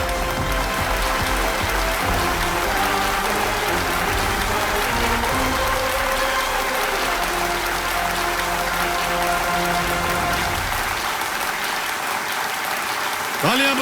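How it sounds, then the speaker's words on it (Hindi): Sustained applause from the studio audience of a Hindi television quiz show fills the room loudly and evenly, with a voice speaking over the clapping throughout. "तालियां बजती रहे आपके लिए रचना जी।"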